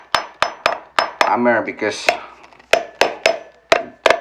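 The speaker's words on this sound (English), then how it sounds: "I have to hammer this out." A hammer knocks out an old wall receptacle in a home DIY repair with sharp, evenly spaced strikes, about a dozen in all, close and loud. Someone speaks briefly in a pause between the blows.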